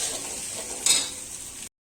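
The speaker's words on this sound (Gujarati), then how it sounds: "થોડું હલાવો એને" Spices, including turmeric, chilli, salt and coriander-cumin, sizzle in hot oil in a pan as a spoon stirs them, with one brief scrape standing out above the continuous frying hiss.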